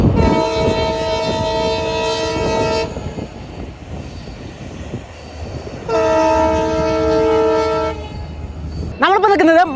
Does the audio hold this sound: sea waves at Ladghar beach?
no